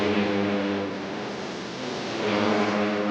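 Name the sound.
racing motorcycle accelerating in a novice road race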